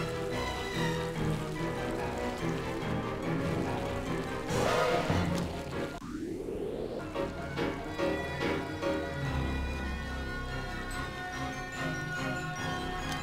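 Rain falls steadily in the Ghost Master video game, a constant wash that runs under busy game music and effects throughout, with a sharp crash sweeping through midway.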